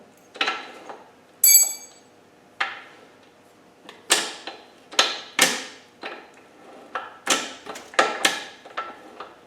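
A rebuilt R380 LT77 gearbox extension housing mechanism is worked dry by hand, giving a series of close, distinct metallic clicks and clunks at irregular intervals against a quiet background.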